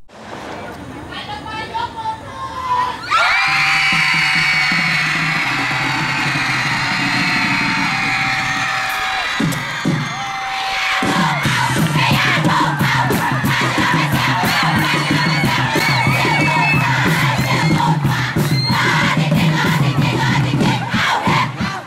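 The Faculty of Education cheering squad at the 13th Pla Buek Games in 2013 chants and shouts in loud unison for a long stretch, breaking briefly in the middle before the massed cheering resumes, with vehicle noise underneath.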